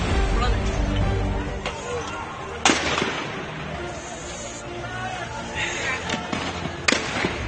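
Shelling and gunfire ring out in news footage of a violent operation in Pakistan, with sharp cracks and heavy bangs over a busy background of crowd noise and voices.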